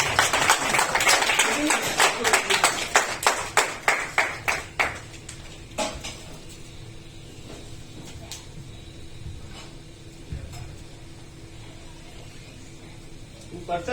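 An audience applauds at a talk: a burst of crowd clapping with quick rhythmic claps that thin out and fade after a few seconds, leaving a quiet room with scattered sounds.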